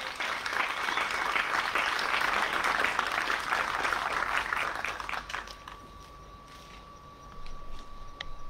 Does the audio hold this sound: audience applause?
yes